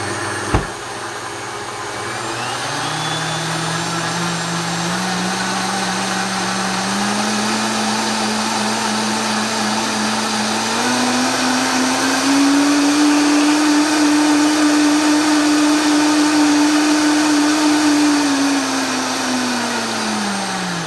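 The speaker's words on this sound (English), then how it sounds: "So with your high-speed blender, you want to bring it up slow." A high-speed blender blending a tahini dressing runs loud and steady for a long stretch, its whirring pitch slowly climbing, holding, then dropping back down.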